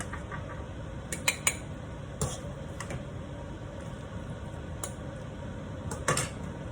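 Food being set onto a plate in a home kitchen, heard as a few light clicks and clinks of utensil on dishware spread over several seconds against a quiet background.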